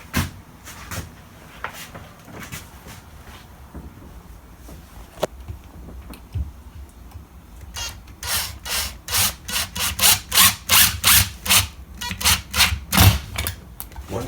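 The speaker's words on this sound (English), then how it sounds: "I'm just going to use my impact gun just to drill it through the frame." An impact gun drives a Phillips screw through a vinyl window frame for a blinds bracket. After quieter handling and knocks, a close, loud, rapid train of rattling impact bursts follows.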